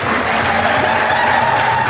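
An audience claps in a dense, continuous patter at steady loudness, filling the space without any speaking voice over it.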